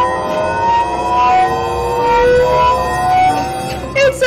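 Samsung phone notification tones stacked and layered into a wavering, rising siren-like drone, loud and dense, accelerating toward the end.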